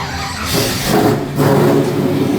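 A classic car engine revs up twice in quick succession at a car cruise, loud and close, with a rough, throaty roar.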